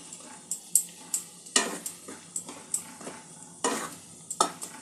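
Spoon scraping and stirring through a cauliflower kabab mixture seasoned with garam masala, in a dozen or so brisk, uneven strokes against the bowl, close and clear with no talking.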